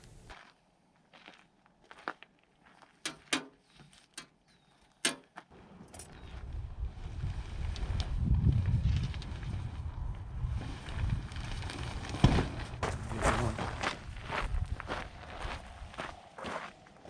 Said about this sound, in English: I am certain that those were needed for the wind at minimum because this was a windy stay